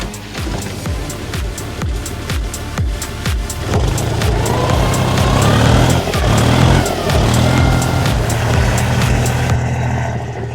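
A Lada Niva and a Chinese tractor labour uphill off-road, their engines chugging with a steady rhythmic knock that swells into a louder, strained roar midway, close and continuous with no talk over it.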